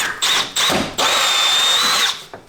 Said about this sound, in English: I can just walk around and drill the hole